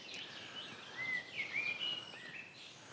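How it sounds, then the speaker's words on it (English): Birds chirp and trill faintly at a quiet wild camp, several short calls in a loose cluster mid-way, distant against soft background hush. "The sound of the birds, that's what gets me, the sound of the birds."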